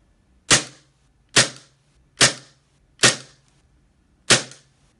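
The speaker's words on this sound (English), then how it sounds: "Now we'll test fire." A WE Glock airsoft pistol fires five sharp, loud, close single shots at even intervals of about a second, each with a snappy crack and brief ring.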